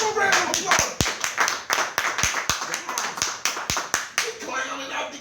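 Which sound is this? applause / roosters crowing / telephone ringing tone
applause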